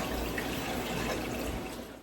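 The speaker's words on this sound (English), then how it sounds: "I'm filling up my jars I'm gonna be using with hot water" Hot water runs steadily into glass canning jars being readied for lemonade concentrate, a continuous close, fairly loud pouring rush that tapers off slightly at the end, with no voices.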